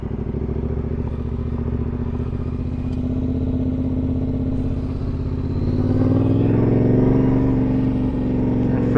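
A motor vehicle engine pulling steadily in first gear at about 20 km/h, a continuous low droning hum close by that swells slightly in revs partway through, with no talk over it.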